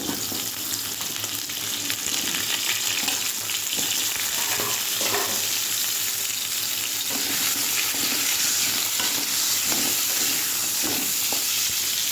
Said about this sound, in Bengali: এবারে এই যে আলু, সব আমি ভেজে আলুটা তুলে নেবো।